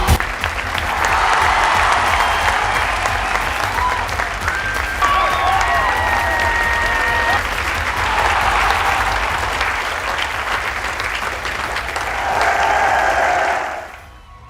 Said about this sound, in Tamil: அண்ணன் சிவகார்த்திகேயன் அவர்களுக்கு மீண்டும் ஒரு முறை ஒரு பெரிய கைத்தட்டல் கொடுக்கணும்